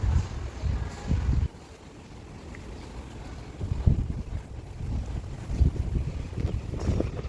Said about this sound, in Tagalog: Medyo mahangin na, malamig.